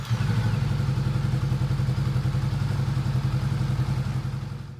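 A Honda CB500X motorcycle engine runs steadily to warm up before an oil change, a close, loud, even thumping idle with a rapid regular pulse that holds for several seconds, no voices.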